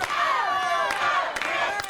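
An NWA wrestling crowd cheers for Wildcat Chris Harris during a tag match, a sustained roar of many voices punctuated by a few sharp thuds.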